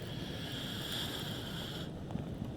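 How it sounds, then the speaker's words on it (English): A river outside a tent in Snowdonia gives off a steady, broad rushing wash that stays even and continuous at moderate distance, with faint shifts near the end. "all I can hear is that river"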